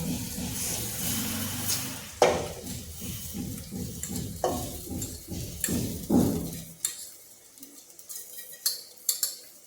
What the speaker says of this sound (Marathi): आता तांदूळ भाजून झालेला आहे